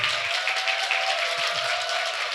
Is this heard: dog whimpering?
no